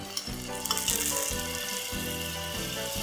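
Garlic cloves sizzling in melted butter over heat, a steady close crackling fry with faint clinks over a low hum throughout.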